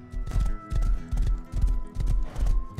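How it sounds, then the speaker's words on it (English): Hooves of a big black horse in Rust, a steady clip-clop gait of regular paired thuds, close and clear, with no talk. "It's a free big black horse."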